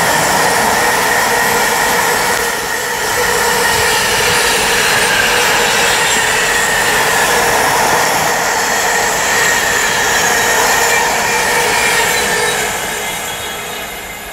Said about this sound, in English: a DRS Class 88 from Moss End Down Yard to Daventry International Rail Freight Reception